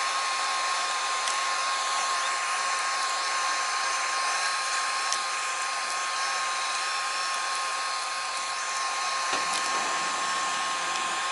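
A heat gun blows hot air onto vinyl car wrap material, a loud, steady whooshing hum running close and unbroken throughout.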